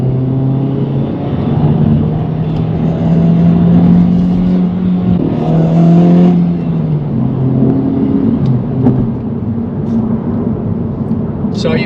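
A 2024 Acura Integra Type S hatchback accelerating through the gears, heard from inside as a loud, steady engine drone rising in pitch with a shift partway through, with someone talking over it.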